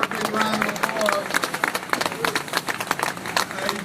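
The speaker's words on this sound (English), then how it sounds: "Let's give her a big round of applause." Audience applause at an outdoor dedication ceremony for the new Kosciuszko Bridge, a dense crowd clapping steadily and fairly loudly, with speech-like babble mixed in.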